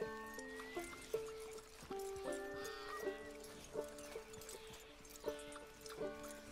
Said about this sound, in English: Such a pretty horse.